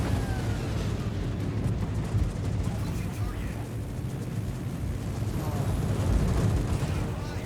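Shell hits, penetrations and a fire on the battleship Thunderer in World of Warships make a dense, rumbling wash of booms and crackle, loud and continuous, with a voice talking over it.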